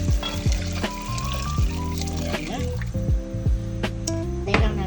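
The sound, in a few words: stock poured into sizzling risotto rice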